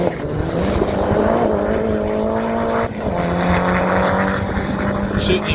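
A Mitsubishi Evo 8 rally car at Ben Nevis Station for the Golden 1200 powers loudly up the straight, its engine holding a strong, rising drone with a brief dip at a gear change before it climbs again.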